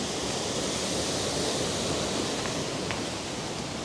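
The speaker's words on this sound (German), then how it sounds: "bin hier wieder an dem Wasserfall" Steady, loud rush of falling water from a waterfall at about 936 metres altitude beside a cycle path between Lermoos and Garmisch, a constant broadband roar with no breaks and no voices.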